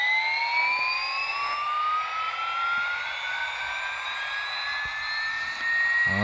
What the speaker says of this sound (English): The electric engine, or electric motor engine